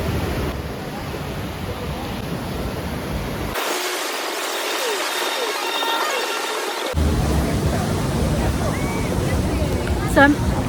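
Ocean waves on a white-sand tourist beach in the USA make a steady wash of surf with wind rumbling at the microphone, the sound thinning out for a few seconds midway before the fuller roar returns.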